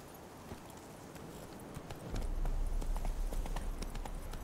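Steady clip-clop of horse hooves at a brisk pace, with a low rumbling background that swells partway through.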